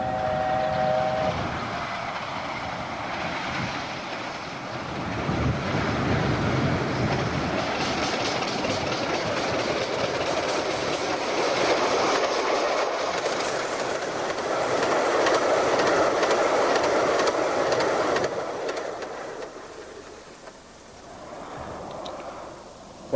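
A narrow-gauge Bure Valley Railway train running through a 200-yard tunnel, a continuous loud rumble and rhythmic wheel clatter building and echoing, then fading away toward the end.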